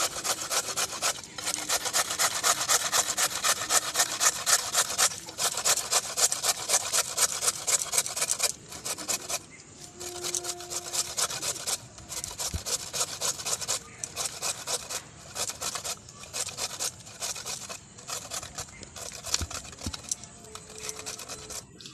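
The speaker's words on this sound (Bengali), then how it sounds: "প্রথমে গাজর কুচিয়ে নেব।" Carrots are grated by hand for Bengali vegetable chops, giving rapid rhythmic rasping strokes in bursts with brief pauses, close and dry, without talking.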